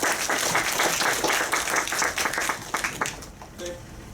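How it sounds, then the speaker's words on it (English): Audience applause at a basic income Q&A event, a dense burst of many hands clapping close and loud, fading out over the last second. "Let's give him a round of applause."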